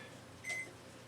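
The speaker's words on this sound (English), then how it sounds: "We're down to just a few seconds on our timer for our meat." A single short electronic beep from a kitchen timer counting down on meat for a baked beef pasta casserole, one brief tone standing out over quiet room hum.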